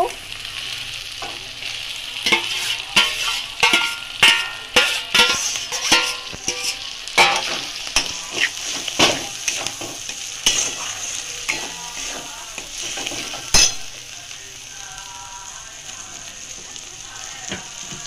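Fried Bombay duck fish stirred into a sizzling spice paste in a pan, steady frying hiss with repeated scraping stirs and occasional utensil clinks, close and fairly loud, no talking.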